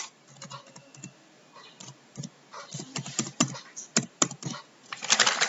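Fingers type on a computer keyboard in an irregular patter of quiet clicks and taps, with short pauses between bursts and a denser flurry at the end, recorded close with no talk.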